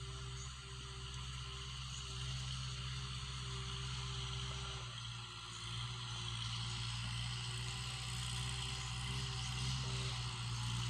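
A Kubota L5018 tractor's steady, low diesel engine drones continuously with a constant throb through its stock exhaust, loud and close, with no voices.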